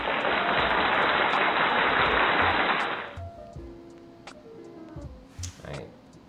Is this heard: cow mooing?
no